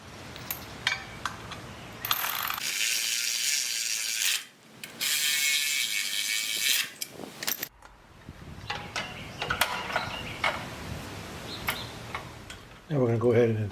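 A ratchet wrench fitted with a 7/16 socket tightens bolts on a GrassFlap deflector for a 36-inch Bradley stand-on mower deck, giving rapid clicking bursts separated by short pauses, fairly close and loud.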